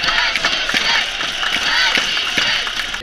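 A crowd of hockey fans at a corporate ice hockey cup final cheers and shouts steadily for the teams, a dense loud roar of voices in an arena.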